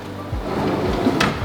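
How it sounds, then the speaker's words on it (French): Soft-close kitchen drawer with a built-in damper in a matte white kitchen sliding shut, a short low rolling rumble that eases into a gentle muffled thud, close and clear. "Il s'agit d'un tiroir assorti total avec amortisseur pour ranger vos ustensiles de cuisine"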